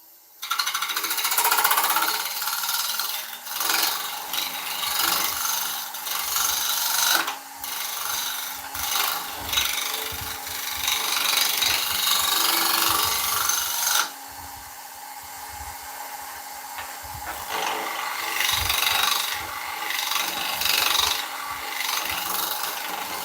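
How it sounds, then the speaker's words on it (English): A scraper works a beech bowl spinning on a wood lathe, giving a steady, loud, rasping scrape that runs almost continuously, with brief pauses and a drop to a quieter scrape partway through. "And like I said, we scrape. It'll remove any tool marks."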